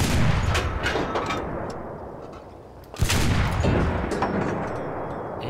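A World War II tank gun in Enlisted fires a single heavy, booming shot that rolls off into a long, rumbling decay, with another loud blast arriving about three seconds later.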